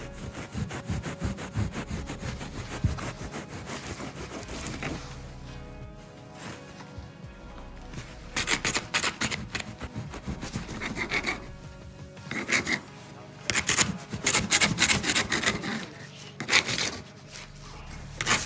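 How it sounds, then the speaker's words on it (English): A stainless steel specialty blade cuts insulation in an 1850s colonial basement, making rough, rasping sawing strokes in irregular bursts with short pauses between them, close and fairly loud. "I have a stainless steel specialty blade here. Cuts pretty easily."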